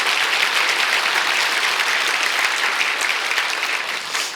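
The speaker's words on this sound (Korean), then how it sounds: "박수 다시 좀 보내주시죠" A congregation at a church mission school session gives sustained applause after worship singing, a thick, even roar of many hands clapping close by that eases slightly at the end.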